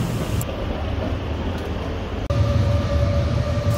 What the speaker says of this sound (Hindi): ये यहाँ की लोकल ट्रेन हैं जो मुख्तलिफ टाउन्स को आपस में मिलाती हैं।